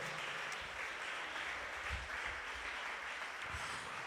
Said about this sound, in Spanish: Tributémosle aplausos sonoros al que vive, aquel que es eterno y glorioso